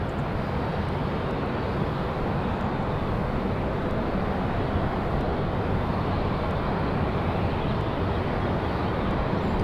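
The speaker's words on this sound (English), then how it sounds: "Very early rotation for that one." An airplane takes off at Raleigh-Durham International Airport with a loud, steady, broadband jet roar that holds unbroken for the whole stretch, with no voices over it.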